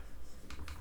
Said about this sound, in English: can you hear all the rapid typing going on right here?